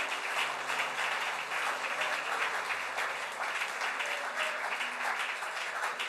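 A church congregation applauds, a dense, sustained wash of clapping from many hands filling the space without pause.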